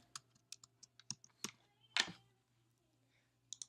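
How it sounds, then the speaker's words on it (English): Quick, irregular clicks of fingers typing a procedure code on a computer keyboard, close and clear, with a louder keystroke burst partway through, a steady low hum underneath and no talk. "I will click in the box and begin typing in my CPT code."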